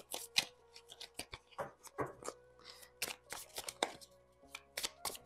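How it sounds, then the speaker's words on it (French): Shuffling a deck of tarot cards by hand gives a series of quick, crisp riffling and slapping bursts at close range, coming in irregular clusters across the clip. "Il est un peu difficile à battre ce jeu. Il y a tellement de cartes."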